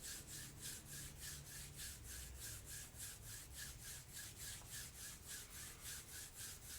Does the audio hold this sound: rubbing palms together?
yes